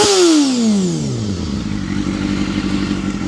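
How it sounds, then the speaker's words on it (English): A Honda CBR250RR motorcycle engine, partly restored and still out of tune, revs loudly up close and then falls back to a rough, uneven idle with a clattering, lumpy beat. "So she's charging, she's starting. It still needs some fine tuning, as you can hear."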